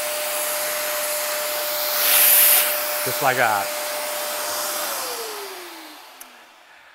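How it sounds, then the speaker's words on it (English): A shop vac running with a sander hose connector fitted, a steady airy roar with a constant whine that drops in pitch as the motor winds down; someone speaks briefly over it. "Now you're ready to go with using your shop vac."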